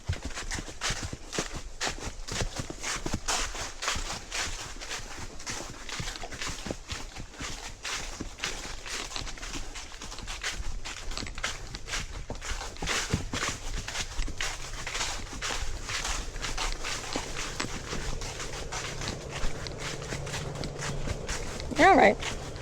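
Horse hooves clip-clop steadily along a forest trail, close and rhythmic for the whole stretch, with a rider's voice talking over them and birds faintly in the background.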